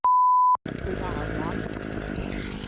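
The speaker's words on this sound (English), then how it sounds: "Sometimes that engine unit there, that one in particular, can be a bit of a nightmare to start." A short electronic beep, then a petrol engine unit on gardening equipment for moss removal starts and runs steadily, loud and close, with a rough idle.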